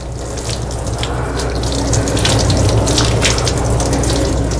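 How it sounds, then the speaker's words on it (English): Tap water runs steadily over hands and forearms during a surgical scrub rinse, washing off betadine, a close, continuous gushing splash at a sink with no talk. "We're going to let the water run from our fingertips down to our elbows."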